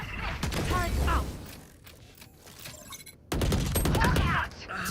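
Valorant turret deploying and firing in a video game: creaking mechanical ratchets and rapid bursts of gunfire, loud and close, with an abrupt cut midway and a voice speaking over parts of it.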